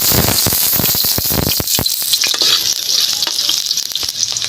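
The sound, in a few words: ginger and garlic sautéing in a pan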